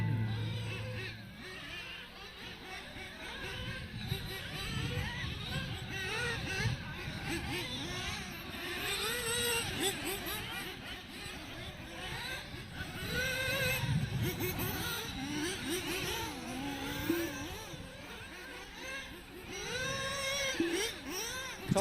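Small RC cars racing around a track at a Halloween club event, a steady buzzing whine of several electric motors rising and falling throughout, with an announcer's voice and crowd chatter mixed in.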